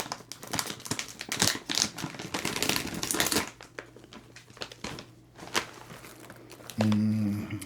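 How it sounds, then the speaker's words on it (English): A crinkly plastic bag of Cracker Jack caramel-coated popcorn is pulled open up close, giving loud, irregular crinkling and crackling for several seconds, then softer rustles and a brief low hum at the end. "Let me open this up and hopefully this bag won't make too much noise."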